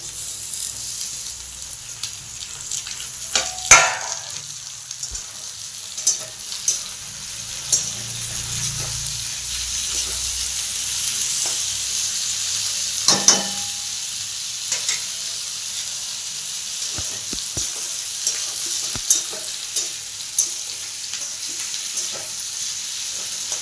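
Tomatoes tipped into a pan of sautéed garlic, onion and whole masala fry with a steady, gentle sizzle for over twenty seconds, marked by a couple of sharper clatters near the start and middle and faint scraping ticks throughout; no one talks.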